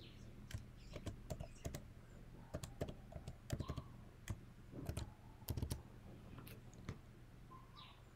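A password is tapped out on a MacBook keyboard: quiet, close, irregular key clicks arrive singly and in quick bursts over a faint background hum, with no talking.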